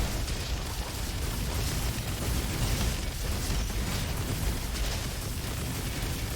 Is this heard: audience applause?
no